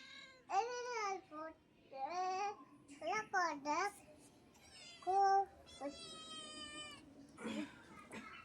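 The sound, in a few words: pet cat meowing while playing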